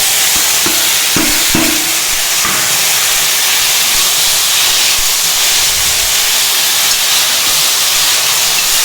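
Tomatoes sizzle and hiss loudly in a hot pan, a dense steady crackle after a few clunks as they drop in.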